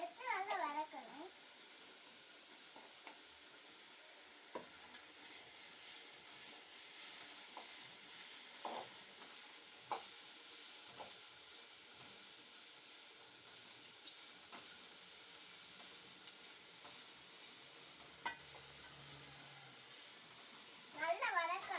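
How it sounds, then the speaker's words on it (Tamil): Food sautéing in a pan, a faint continuous sizzle with occasional stirring scrapes, brief speech at the start and end. "அடுத்து நல்லா வதக்கணும்."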